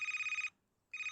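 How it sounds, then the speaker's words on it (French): Phone ringtone in the video game Toca Boca, a bright electronic trill that rings, pauses briefly, then starts again, clear and close with nothing else heard. "c'est quoi ces sonneries?"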